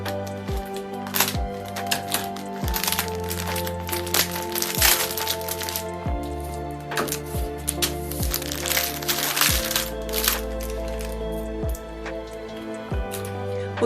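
Plastic packaging of a knitting cord crackles and crinkles as it is torn open, a run of sharp close cracks and rustles at irregular intervals against a steady low hum.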